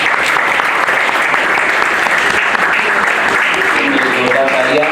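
Loud, steady applause from an audience at an orator-of-the-month award ceremony, welcoming the host, dense clapping sustained throughout with voices faintly mixed in.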